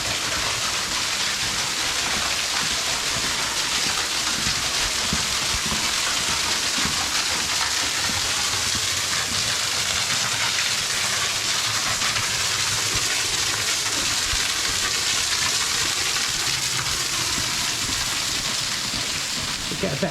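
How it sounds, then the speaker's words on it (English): Maspie Den waterfall in the Lomond Hills gives a steady, broadband rush of falling water, dense and unbroken throughout like heavy rain on a surface. "waterfall."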